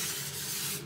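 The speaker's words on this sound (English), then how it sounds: "I can place the alcohol in precise places with the pump instead of the spray bottle" Rubbing alcohol forced out of a pump bottle in a continuous close, loud hiss of spray lasting under a second, ending in a brief click.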